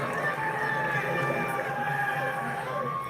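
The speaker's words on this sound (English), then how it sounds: "Crowd getting involved today at People First Stadium." Stadium crowd at an AFLW football match between Gold Coast Suns and Geelong at People First Stadium, a steady broad roar of many voices cheering, distant and continuous.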